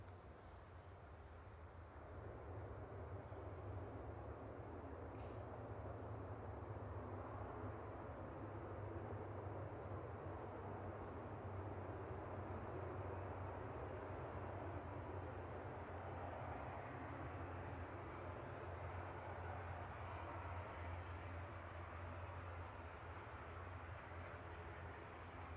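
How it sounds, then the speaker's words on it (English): An Aurigny ATR 72 turboprop airliner arrives from Guernsey at Manchester Airport, its faint, distant engine drone swelling after a couple of seconds and holding as a low, steady rumble for the rest of the span. "Airigny coming in from Guernsey, flight 670. ATR 72"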